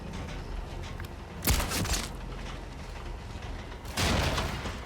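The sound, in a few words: gunshot in video game Sniper Elite 5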